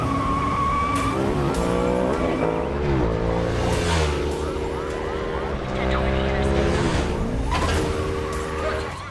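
Tires skid and engines roar through a movie car chase with police, loud and busy, with sliding tire squeals and siren-like tones layered over a dense film mix.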